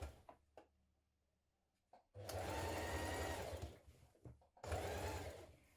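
A sewing machine stitches the shoulder and sleeve seam of a hooded jacket in two steady runs of fast, whirring needle hum, close and loud, preceded by a few soft handling taps and clicks.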